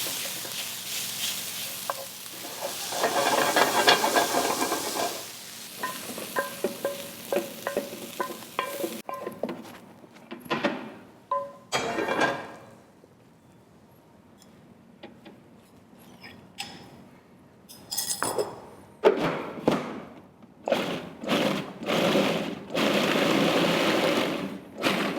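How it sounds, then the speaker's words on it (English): White beans mashed with the back of a wooden spoon in a pan, the spoon scraping and pressing in irregular bursts with quiet gaps between, close and moderately loud. "just with the back of my wooden spoon, I'm going to crush these"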